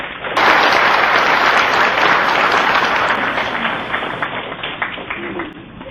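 Loud, dense applause from a crowd at a political gathering honoring Kim Man-su, a local council election figure, starting abruptly and sustaining steadily for several seconds before gradually thinning.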